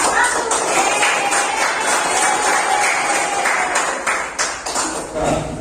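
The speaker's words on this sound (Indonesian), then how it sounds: "tepuk tangan untuk kelompok 1" A classroom audience applauds for group 1 after a presentation, with steady, dense clapping that carries through the whole clip and thins slightly near the end.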